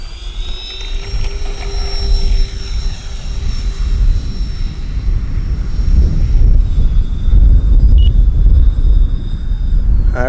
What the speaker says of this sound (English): That's a good flying plane right there